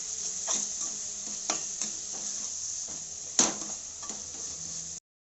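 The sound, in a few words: onion paste being stirred and roasted in pan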